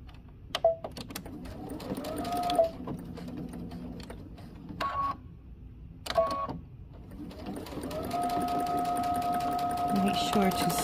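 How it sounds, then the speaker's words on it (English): A sewing machine runs in short bursts and then a longer steady stretch, stitching a seam on a Know Me ME2054 garment, while someone talks over much of it. "we're gonna take it to the machine and stitch between the large dot and the notch"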